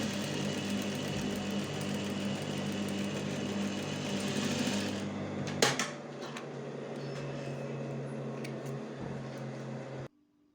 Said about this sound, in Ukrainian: Ось таким чином та прокладаємо строчку біля шва.